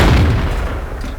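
A single loud cannon blast from a KV-1 heavy tank in World of Tanks, booming and close, then quickly decaying with a rumbling tail.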